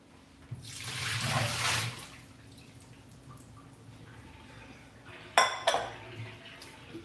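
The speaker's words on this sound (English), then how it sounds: "We're going to dump out the water." Soaking water that had sat for about six and a half hours is dumped from a container into a kitchen sink. A brief rushing splash is followed a few seconds later by sharp clatters of dishware, all close and with no speech.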